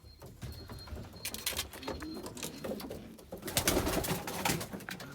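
Young hand-raised pigeons coo in an indoor cage, soft repeated low coos mixed with rustling and fluttering, close by and without talk.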